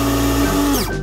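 A small electric milk frother or blender whirs steadily and loudly up close to froth milk for coffee, its pitch dropping as it winds down near the end.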